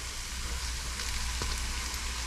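Potato langos dough frying in canola oil, a steady close sizzle and crackle of hot oil with no talk over it.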